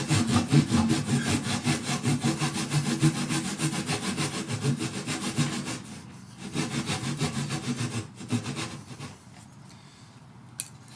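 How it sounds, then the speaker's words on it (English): A tenon saw cuts across the grain of a small piece of wood in mortise-and-tenon table work, with steady rasping back-and-forth strokes up close and brief pauses partway through. "Normally you wouldn't cut across the grain with a tenon saw"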